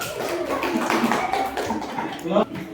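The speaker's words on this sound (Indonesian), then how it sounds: "Kita kasih aplaus untuk kelompok 1." A class of fourth-grade pupils claps for a group in a classroom, a dense, continuous patter of hands at close range lasting the whole moment, with a voice or two mixed underneath.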